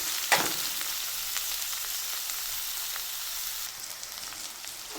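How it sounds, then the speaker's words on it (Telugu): Sliced onions frying in a pan for a dhaba-style chicken curry, giving a steady, close hiss of sizzling oil with a few faint stirring scrapes, no voices. "ఈ ఆనియన్స్ ఇప్పుడు కొంచెం ఫ్రై చేసుకుందాం"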